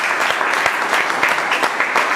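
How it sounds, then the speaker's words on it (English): An audience at a club meeting gives a round of applause for the Sergeant at Arms, loud dense clapping from many hands close by, steady throughout with no talking. "a huge round of applause for the Sergeant at Arms"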